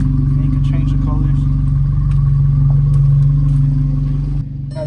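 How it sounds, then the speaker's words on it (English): A 2014 Volkswagen GLI idling nearby, a steady loud low engine hum that drops slightly near the end, while a person talks over it. "I have the car on"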